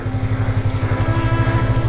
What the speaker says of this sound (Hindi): बाइक फंस रही है मेरी।